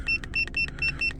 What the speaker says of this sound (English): Sorry about the annoying beeping.